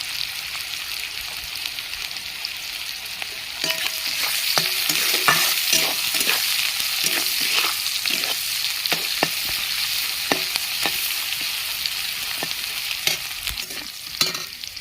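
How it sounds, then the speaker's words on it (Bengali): Onions sizzle steadily in a hot pan while a utensil repeatedly scrapes and stirs, the clatter growing busier after the first few seconds. "পেঁয়াজ ভাজা হয়ে গেছে"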